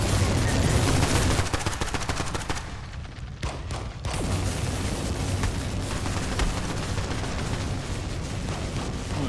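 Gunfire from a gun in the video game Blackout Protocol, with dense rapid bursts that stay loud and continuous, a brief dip partway through, then sustained shooting mixed with game noise.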